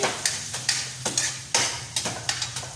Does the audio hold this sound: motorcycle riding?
no